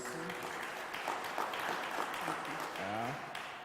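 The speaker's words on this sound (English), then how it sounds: "Please give our panelists a round of applause." Audience applause for panelists at a startup summit during an innovation week event in Kenya, a steady wash of clapping from a crowd with a voice speaking over it.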